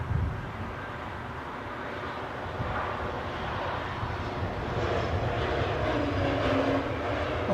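A Swiss airliner arriving at London Heathrow airport gives a steady, broad jet roar that swells slightly as it draws nearer, heard from a distance in open air.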